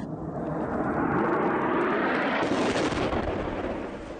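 Russian warplanes and artillery bombard an area along a highway in northern Syria, a loud, sustained roar of blasts and aircraft that swells, holds, then slowly fades, with no voices.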